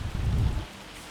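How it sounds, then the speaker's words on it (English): Hail drumming down in Farming Simulator 25 on a farm field, a brief loud burst of pattering and low rumble that drops to a quieter hiss partway through. "we are going to wait until it stops hailing before we continue"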